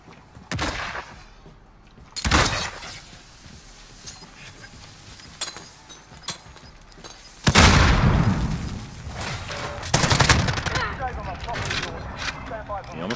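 Video game gunfire while pre-firing an angle: loud bursts at intervals, with heavy volleys near the start, in the middle and toward the end, each ringing over a dense, busy background mix.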